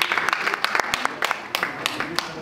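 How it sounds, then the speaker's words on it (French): Audience applause at a Chad health-center gathering, a sparse patter of claps over a noisy room with speech-like murmur, fairly close and steady for a couple of seconds. "Applaudissez pour elle"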